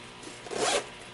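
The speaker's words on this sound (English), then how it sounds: "It's got a zipper on the inside." A zipper on the inside of a fraying coral-colored purse is pulled in one smooth, close zip lasting under a second, with no talking.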